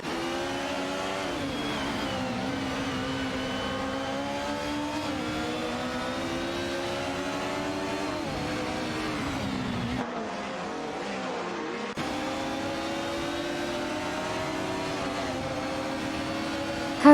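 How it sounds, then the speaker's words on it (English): Racing car engine climbing steadily in pitch as it accelerates away, loud and close with rising harmonic whine, briefly dipping before surging again. "Racing car dashing away"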